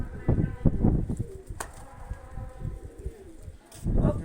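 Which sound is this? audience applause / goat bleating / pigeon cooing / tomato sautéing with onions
pigeon cooing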